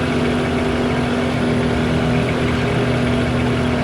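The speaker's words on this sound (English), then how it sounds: "Once it idles, it's just that exhaust is so loud" A loud engine idles on a dyno in Farming Simulator 25, a constant droning exhaust note with a steady low hum, close and unbroken for several seconds.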